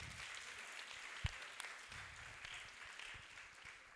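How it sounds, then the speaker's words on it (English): Faint, distant applause from an audience at a blue economy youth forum, a soft, even patter of many hands with a single sharper clap standing out near the start. "Give him a good clap"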